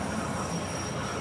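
A train passes loudly and close by, a continuous roaring rumble with rattling wheels and no voices.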